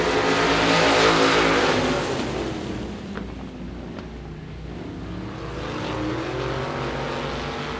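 Modified race cars roar around the Devils Bowl Speedway dirt oval, a dense pack of engines droning loudly throughout, swelling and easing as the field passes, with a brief dip in the middle.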